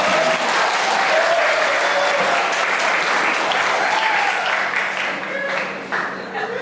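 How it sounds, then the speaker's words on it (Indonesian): Sustained audience applause at a retirement farewell ceremony for a departing agency head in Badung, dense clapping from a crowd that holds steady, then thins slightly toward the end. "Jangan setengah-setengah tepuk tangan dia sekalian"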